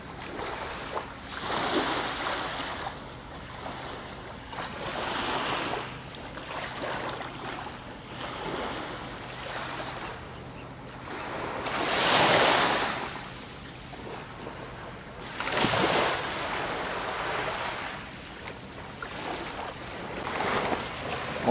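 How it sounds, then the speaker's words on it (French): Gentle waves of the Bassin d'Arcachon lap and wash in soft, recurring surges, with a louder swell near the middle, steady background hiss between them. "Entendez ce bruit des vagues là, c'est reposant."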